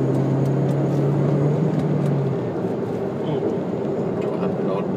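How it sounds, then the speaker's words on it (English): A 2003 Hyundai Elantra accelerating flat out in third gear, the engine drone steady and loud from inside the cabin, its pitch holding high before easing slightly partway through. "see if we can give it a bit of an acceleration test. Right, in third gear."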